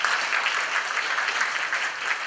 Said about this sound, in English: a round of applause for Joseph Lorinc